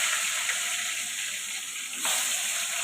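Pieces of aair fish coated in raw oil are laid into hot oil for a fish jhol, setting off a loud, continuous close hiss and sizzle that swells as another piece goes in.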